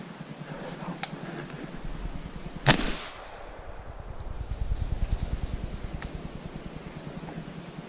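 A single sharp shotgun blast rings out outdoors during a squirrel hunt, standing out loud and alone over a steady background hum, with a few fainter pops before and after.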